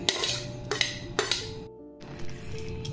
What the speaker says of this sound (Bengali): এবার আমি এগুলো সমস্ত ভালো করে পুরো মিশিয়ে নেব।